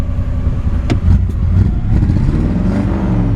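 A 1955 Chevrolet Bel Air engine with an automatic choke, still warming up on a cold day, revs briefly and then settles back. The engine runs loud and close the whole time, with a sharp blip near the start.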